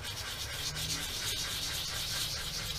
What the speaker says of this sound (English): give it a very quick rub down by hand just to smooth everything out